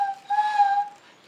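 A tonal owl call, likely from a small handheld instrument in a children's music show, sounds as one steady hooting whistle of about a second, clear and close with no talk.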